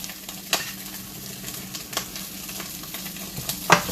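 Homemade chorizo fries in a pan, an even steady sizzle with a few sharper pops and scrapes spaced through it, close up and alone without talking.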